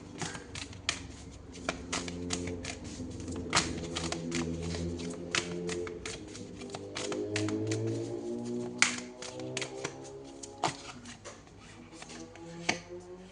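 Tarot cards are shuffled close up and quietly, giving a string of soft, irregular taps and riffling clicks that keep going for several seconds, while a faint voice speaks underneath.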